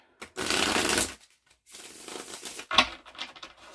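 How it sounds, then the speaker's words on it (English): Tarot cards are shuffled nearby in two riffling bursts separated by a short pause, followed by a few light taps and card snaps. "so one more shuffle"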